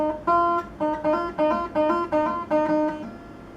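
Guitar notes ring out in quick pairs, the string picked then hammered on for the second note, repeating in a steady pattern, clear and close.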